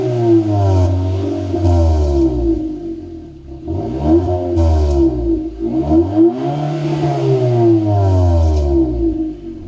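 A Hyundai Sonata N Line, the Edge model, revs its exhaust repeatedly, giving deep, heavy swells that rise and fall in several loud pulses, close up with no talking.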